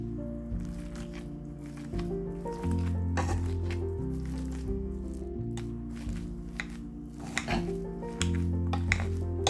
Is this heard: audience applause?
no